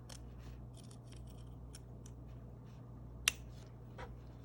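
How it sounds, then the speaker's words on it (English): Scissors snip through excess fabric while trimming a homemade breathable facemask: a run of faint, close cutting sounds with one sharp, louder snip near the end, in a quiet room. "we're going to cut away the excess material."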